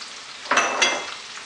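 A spoon stirs red chili, coriander and turmeric powders with salt in a pan for butter chicken, giving two short scraping, sizzling strokes close up over a quiet frying hiss.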